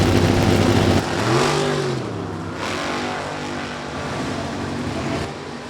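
A Pontiac Tempest drag car launches hard down the strip, its big engine roaring loud and close, then the pitch sweeps up through gears as it pulls away.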